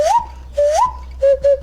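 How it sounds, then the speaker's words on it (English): A Brazilian nose whistle, blown with the nose, gives three bursts of whistling: two rising swoops that settle into a held tone, then a few short, even toots at a steady pitch, close and alone. "This is a nose whistle. It comes from Brazil, and you play it with your nose."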